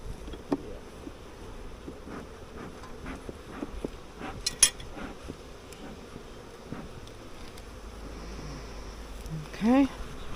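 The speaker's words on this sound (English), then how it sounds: "A whole lot of bees on that one." A steady low buzz of honey bees drones on around hives, with scattered faint clicks and a brief louder burst near the end; no one speaks.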